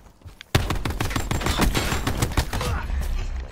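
Rapid gunfire in a video game, a sudden onset of dense, loud rattling shots in quick bursts sustained for several seconds, with a faint voice underneath.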